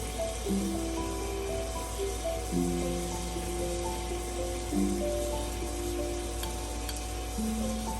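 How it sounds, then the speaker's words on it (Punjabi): Ground coriander and turmeric frying in hot oil for a pattypan squash (chappan kaddu) curry, a steady close sizzle that continues throughout without talk. "ਮਸਾਲਿਆਂ ਨੂੰ ਭੁੰਨਾਂਗੇ"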